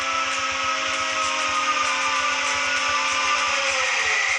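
A ship's mooring winch turns its drums to wind in the mooring ropes, giving a loud, steady mechanical drone laced with rapid, evenly spaced clicking pulses, with no voices.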